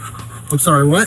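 A dog panting close by during a roadside confrontation, a short burst of rapid breathing mixed with a person talking over it.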